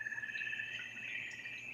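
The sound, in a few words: frog mating calls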